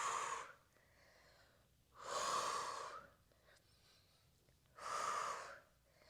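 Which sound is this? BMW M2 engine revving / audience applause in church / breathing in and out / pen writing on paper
breathing in and out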